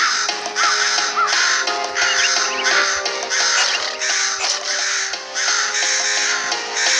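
Crows caw harshly and repeatedly in a zombie video game set in a New York park, several birds overlapping in loud, steady bursts with no talk.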